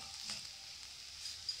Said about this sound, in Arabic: كنخلي البصله ديالي كتشحر، من بعد كنضيف عليها الجزر